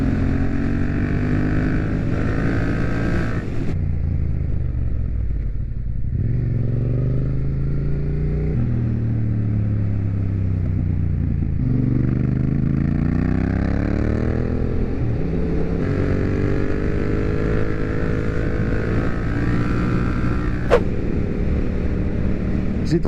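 A motorcycle rides along rough, unpaved gravel roads, the engine droning steadily with rising and falling revs through gear changes, wind noise constant and the rider's voice faintly in the mix.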